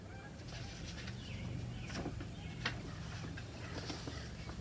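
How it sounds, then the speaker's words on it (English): Geese honk repeatedly in flight at a distance over a constant low hum, the calls rising and fading irregularly without speech. "Hear those geese flying?"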